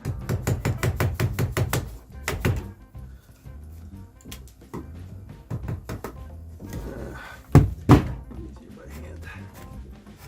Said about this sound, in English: we can now chisel off these plugs I put in here